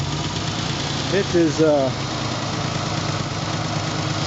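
A 300k-mile Ford Bronco II engine idling after its badly clogged fuel injectors were cleaned, a steady low even hum throughout, with someone speaking briefly over it partway through.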